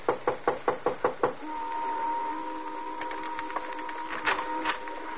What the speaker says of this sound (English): Want to knock?